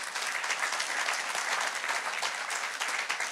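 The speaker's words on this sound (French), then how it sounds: "Et acclamons très fort le Seigneur." A church congregation at an online worship service bursts into steady, sustained applause, a dense even wash of clapping hands that continues throughout without a break.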